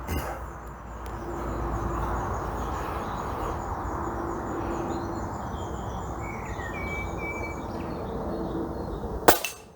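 A Steyr LG110 air rifle fires a single sharp, close shot near the end, after a long stretch of outdoor ambience with faint birds and insects.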